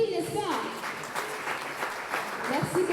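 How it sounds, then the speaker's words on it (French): Audience applause at a live talk event, a steady wash of clapping sustained throughout, with a voice speaking over it at moments. "Est-ce qu'on peut l'applaudir encore?"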